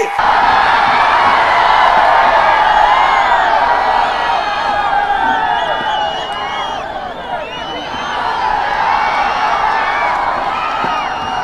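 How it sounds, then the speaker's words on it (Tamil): A large crowd at a political rally in Tamil Nadu roars continuously with whoops, yells and cheering, loud and dense for the whole stretch. "உங்களுடைய எழுச்சி ஆரவாரம்"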